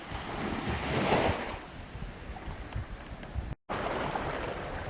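Ocean surf washes against an eroding stretch of the Abel Tasman coast near a warden's hut, a continuous broad roar with a swelling wave and wind noise buffeting the microphone, with one brief dropout.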